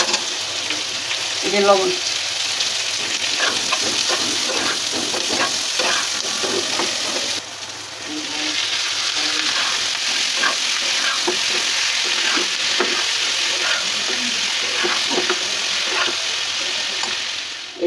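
Cucumber stir-fried in a pan with garlic and cubed onion, a steady sizzle and frying hiss broken by spatula scrapes and stirring clatter, with a short break midway while a voice speaks briefly over the cooking.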